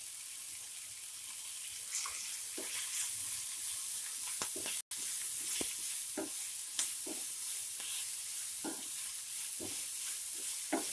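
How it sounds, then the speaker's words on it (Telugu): Food frying in a pan while being stirred, a soft steady sizzle under repeated scraping and clinking of the utensil against the pan, with a brief dropout midway. "మళ్ళీ 5 మినిట్స్ ఫ్రై చేయండి."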